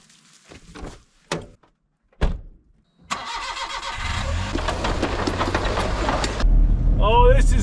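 A modified off-road kei truck starts up and drives off, its engine settling into a steady close hum with rattling after a few thumps and a door shutting, while people talk near the start and end.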